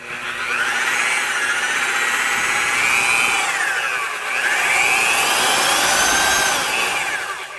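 Milwaukee 6509 Sawzall reciprocating saw, freshly regreased, running loud and close in two long bursts with a brief dip between them, its whining buzz rising and falling in pitch.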